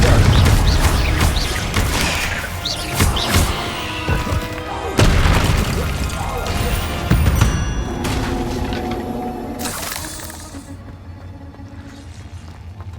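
Confringo blasting spells exploding in Hogwarts Legacy, a run of loud, close booms and crashing impacts in quick succession that fade into a quieter tail, with no talking.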